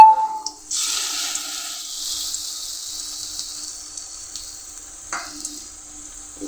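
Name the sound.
frying snake gourd fritters in oil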